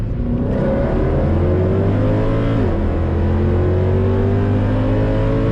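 A Mercedes W204 C63 AMG V8 accelerates hard in second gear, its engine note rising steadily in a loud, close in-cabin roar with a brief dip and recovery partway through, no talk over it.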